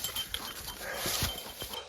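A hunting dog working grouse and woodcock habitat in Minnesota, heard as brief panting, sniffing and rustling through brush close by, over faint outdoor background, with no speech.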